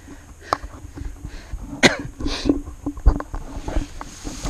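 A person with a cold coughs several times on a mountain trek, short rough bursts close by, with breathy throat noises between them against outdoor background.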